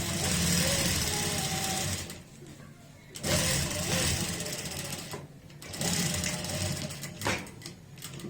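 A sewing machine stitches across the pleats of a ready-made belt saree, running in three loud steady bursts separated by brief pauses.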